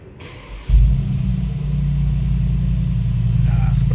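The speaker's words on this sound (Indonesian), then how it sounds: "Itu dia suara mesin 4000 cc twin turbo VA." A 2018 Mercedes-AMG G63 Edition 1 with a 4000 cc twin-turbo V8 fires up with a sudden loud bark, then settles into a steady, deep rumbling idle heard up close.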